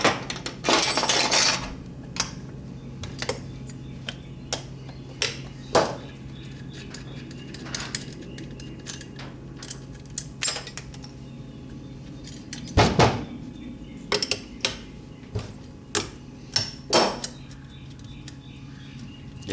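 The manifold comes off Kadron carburetors during disassembly, with scattered sharp metallic clicks, clinks and knocks of tools and parts close by, irregular and separated by quiet gaps, with no talking.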